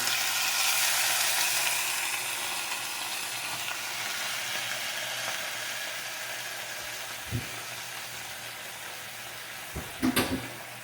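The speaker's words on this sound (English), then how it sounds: "I'm going to brown it for just a minute" Ham browning in a hot frying pan, a loud steady sizzle that slowly fades, broken near the end by a few clacks of the pan or utensil.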